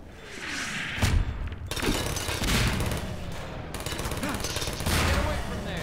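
Turret gunfire in Half-Life 2 rattles in dense, overlapping bursts, with sharp booming impacts near the start and sustained chattering fire throughout.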